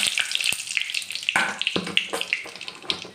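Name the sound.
cumin seeds and bay leaves sizzling in hot oil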